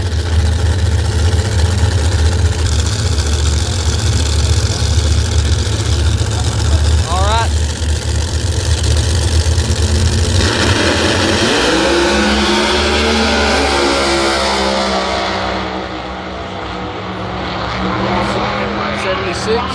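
A Pro Mod Camaro makes a drag racing run at the U.S. Nationals. A deep rumbling engine idle gives way to a loud revving launch that fades into the distance, while a commentator talks over it.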